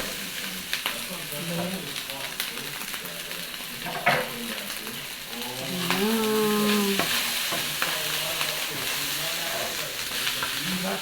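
Leftover cooked rice stir-fried into fried rice in a pan, a steady sizzle with scraping and stirring strokes throughout, a louder clatter near the middle, and faint voices or animal calls in the background.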